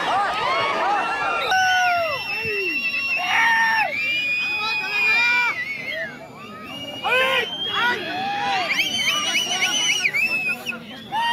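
A large crowd at a national-level wrestling competition in Aija cheers, whistles and claps, with loud shrill whistles and rising shouts layered over continuous hubbub throughout.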